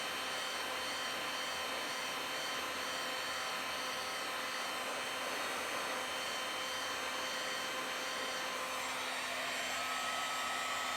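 A heat gun blows steadily on the underside of a car headlight, reached from beneath the fender with no liner fitted, giving a continuous loud whirring hiss without speech.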